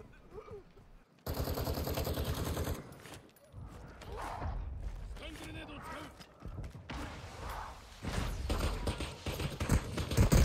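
Bursts of automatic gunfire and single shots ring out in Call of Duty: Modern Warfare II zombie royale mode on PS5, mixed with game mechanisms and footsteps, while players talk throughout.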